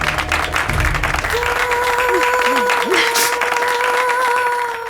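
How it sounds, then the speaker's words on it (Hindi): A studio audience on a game show gives loud, sustained applause for Tulsi, steady clapping filling the room throughout while music tones ring underneath. "एक बार जोरदार तालियां तुलसी जी के लिए।"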